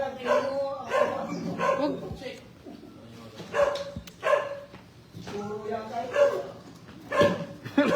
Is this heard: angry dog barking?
yes